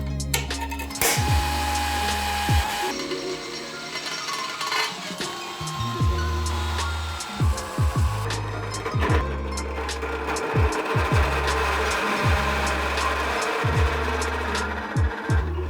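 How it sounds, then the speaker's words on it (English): Drilling through a steel motorcycle seat plate into aluminum, first a 3mm pilot hole, for a BMW R80 build: a steady whining drill runs with repeated short bursts and bites, close and fairly loud, with workshop clatter between. "I'm going to drill a 3mm pilot hole and then go to 6mm."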